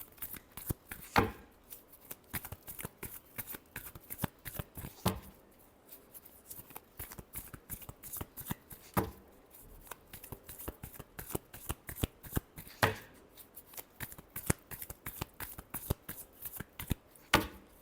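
Tarot cards being shuffled by hand, a quiet, rapid run of crisp riffling flicks and taps with a few sharper slaps as the deck is squared.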